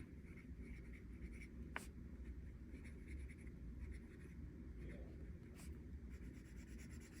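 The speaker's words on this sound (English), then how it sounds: "The next one is a Conklin pen, but let me write." A Conklin fountain pen inked with Tasha's Olive scratches faintly across paper in steady, close strokes, with a short sharp tick partway through and a soft ambient hiss beneath, no talking.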